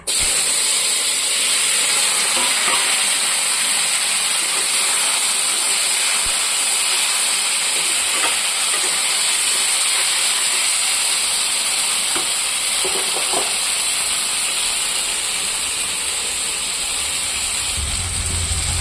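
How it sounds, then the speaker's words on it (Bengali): Cut potato and eggplant fry in hot oil with a continuous loud, dense hiss that holds steady for the whole stretch, dotted with faint crackles. "তেল আমার গরম হয়ে গেছে। এখন আলু বেগুনটা দিয়ে দেবো"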